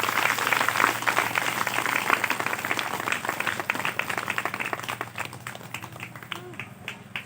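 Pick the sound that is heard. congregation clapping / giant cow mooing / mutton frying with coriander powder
congregation clapping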